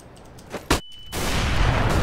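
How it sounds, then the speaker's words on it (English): A flashbang grenade goes off in Counter-Strike on dust2: a short sharp burst, then a brief hush with a thin high whine, followed by a loud sustained wash of noise. "Flashbang."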